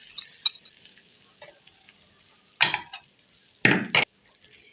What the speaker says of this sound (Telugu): ఈ చట్నీలో వేసేస్తున్నాను పోపుని.